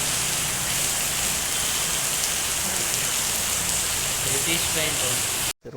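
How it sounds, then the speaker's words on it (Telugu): Heavy monsoon rain in Meghalaya pours steadily throughout, a dense, constant hiss of drops, ending abruptly in a brief silence. "మేఘాలయలో వర్షం"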